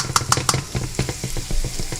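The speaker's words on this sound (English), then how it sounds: "So let's put this garlic on in there." Garlic dropped into hot oil in a pan sizzles steadily at close range, with a few sharp clinks and stirring scrapes early on and the frying hiss continuing alone.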